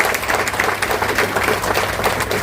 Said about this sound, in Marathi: राजे भोसले सरांसाठी जोरात एकदा परत टाळ्या वाजवा